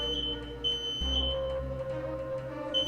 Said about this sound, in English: Properly functioning smoke alarms are there to help alert everyone to the presence of a fire